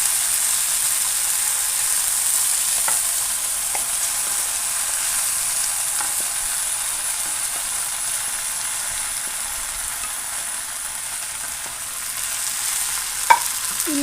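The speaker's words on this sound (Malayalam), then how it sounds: "ഈ ഒരു സമയത്ത് നമ്മുടെ ഫ്രൈ ചെയ്ത് വെച്ച സോയാബീൻ നമുക്കിതിലേക്ക് ഇട്ട് കൊടുക്കാം." Fried soya chunks tossed into a pan and stir-fried for soya chilli dry, giving a steady, even sizzle with occasional scraping clicks of a spoon over fourteen seconds, with no talking.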